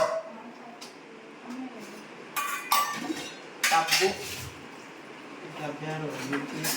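Steel vessels being moved around a home clink and clatter in a few bursts of metallic chinks.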